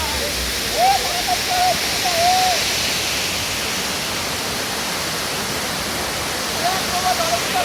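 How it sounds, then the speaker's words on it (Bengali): The Damtua waterfall in Alikadam, Bandarban gives off a loud, constant rushing roar close by, with brief snatches of voices rising above it. "চমৎকার একটি ঝর্ণা হচ্ছে এই দামতোয়া ঝর্ণাটি"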